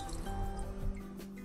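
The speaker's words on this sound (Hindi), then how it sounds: "सबसे पहले पैन में ये 1 गिलास पूरा पानी में डाल रही हूँ" A full glass of water is poured into a cooking pan for a no-oil mixed vegetable pickle brine: a steady, close liquid splash and dribble with soft drip-like detail, fairly quiet throughout.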